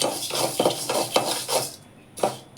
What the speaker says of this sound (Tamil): இந்த எள்ளை எடுத்து அப்படியே போட்டுருங்க. போட்டு நல்லா கிண்டணும்